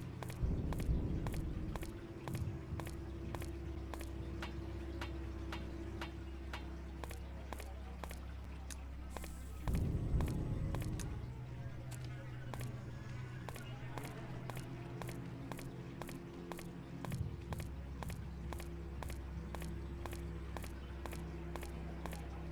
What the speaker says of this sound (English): I actually think I hear footsteps